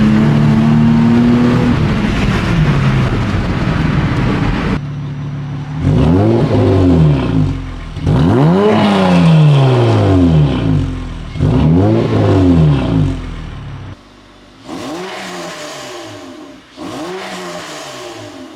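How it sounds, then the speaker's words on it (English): A second-generation Honda Odyssey van with a custom catless exhaust drives and accelerates through several gear pulls, its engine and exhaust note rising and falling loudly and close by, with no voices. "the exhaust on the van is a success. It sounds better. It's a little bit louder"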